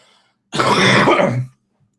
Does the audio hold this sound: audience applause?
no